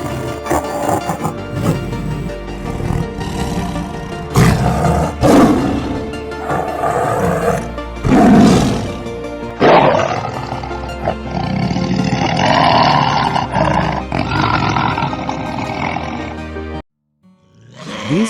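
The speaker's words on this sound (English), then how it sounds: "These are the sounds the Russian Amur Tiger makes." Russian Amur tiger roaring loudly and close, in repeated deep rumbling bursts followed by a long growling stretch, with no talk.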